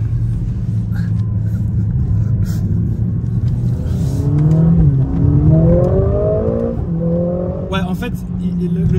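Mercedes-AMG A45S engine revving hard up through gear shifts, a loud close rumble rising in pitch with each pull and dropping at the changes, with someone talking over it.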